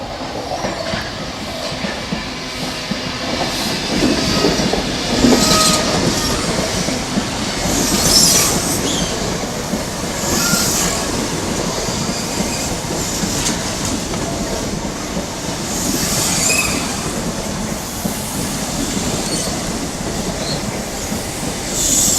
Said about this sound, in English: we've got the 1244 service to Norwich now, which will shortly be arriving to Ipswich Station. Here it comes.